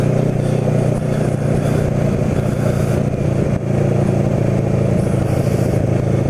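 Kawasaki Ninja motorcycle engine while riding on the road, a steady loud close drone with wind rush, holding an even pitch throughout with no speech.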